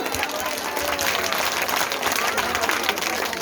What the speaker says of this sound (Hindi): जोर से ताली कौन बजायो?